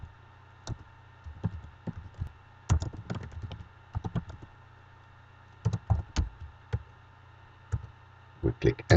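Computer keyboard keys clicking in irregular bursts, including an Enter press, at a desk during a software translation task; sharp, close clicks spaced across the clip with quiet gaps and a faint background hum.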